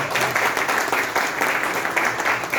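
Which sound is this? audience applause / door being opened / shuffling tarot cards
audience applause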